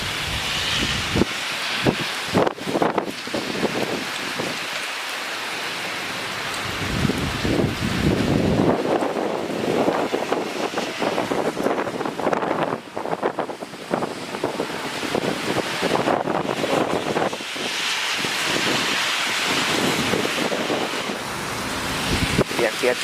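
Strong gusting wind of Typhoon Hagibis in Kawagoe, Japan, roars and buffets the microphone continuously, surging and easing in loud waves with rain, rustling plants and a voice briefly under it.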